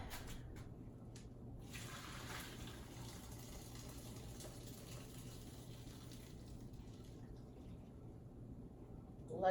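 Cooked acini de pepe pasta for frog eye salad draining in a kitchen sink, a steady continuous watery rush running throughout, with a brief louder clatter at the very end.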